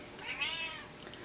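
A cat gives one drawn-out meow, rising then falling in pitch, fairly close and clear with no talking.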